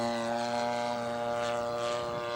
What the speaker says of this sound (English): I guess it's just a flyby.